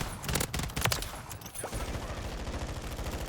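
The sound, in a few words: gunfire from a Modern Warfare video game rifle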